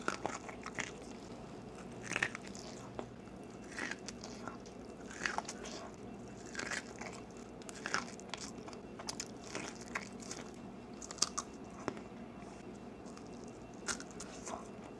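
Mini corn being bitten and chewed close up in a mukbang, with repeated crisp, juicy crunches and wet chewing in an irregular rhythm, no talking.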